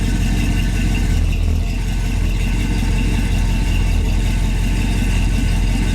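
A 1966 Chevy truck engine idles high and steady, a loud, close, continuous rumble with an even mechanical throb and no voices.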